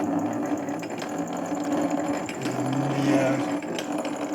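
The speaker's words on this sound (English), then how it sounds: "A DC motor operated the mechanism." Circa 1910 Eberhard Schneider film step printer driven by a DC motor, its mechanism running with a rapid, steady mechanical chatter and clatter, close up, while a voice speaks over it.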